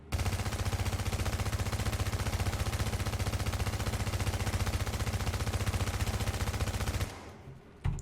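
A PP-19 submachine gun in the video game The Division fires one long continuous burst of rapid, evenly spaced shots for about seven seconds, then stops abruptly, leaving a brief quiet tail with a small click at the end.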